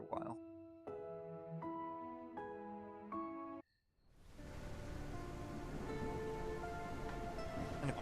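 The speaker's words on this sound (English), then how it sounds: "And of course now we got rain" After a few plucked musical chords and a brief hush, steady rain falls in a city-building game, a dense broad hiss that holds at an even, fairly soft level to the end.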